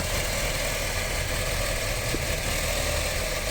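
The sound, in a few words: Audi A4 B6 2.0 ALT engine idling after cold start, knocking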